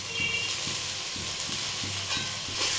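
Tomato stirred into a mash of eggplant frying in a pan, with a steady broad sizzle and a regular scraping stir about every half second.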